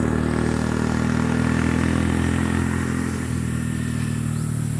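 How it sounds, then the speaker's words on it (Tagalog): Motorcycles pass along a road in steady succession, a continuous close engine drone with a slight dip in level midway, heard without talk. "Nagdaraman dito mga motorcycle"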